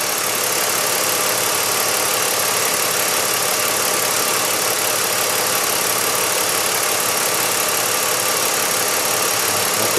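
A BMW X5 engine idles at about 700 RPM, a loud, close, unbroken mechanical hum and hiss that stays steady throughout with no voices.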